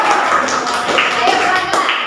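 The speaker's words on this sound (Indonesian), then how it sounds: "Tepuk tangan untuk kelompok hijau." A classroom of students applauding, a loud, dense patter of many hands clapping together without a break.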